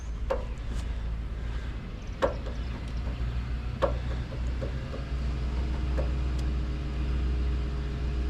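Old truck creeping slowly in four-wheel drive, a steady low engine rumble with a few sharp knocks and clunks from the drivetrain or ground, fairly close with no talk.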